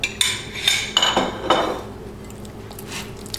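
A spoon knocks and scrapes against a mixing bowl as mashed banana is folded into banana bread batter, with several distinct clinks early on that fade into softer, quieter stirring.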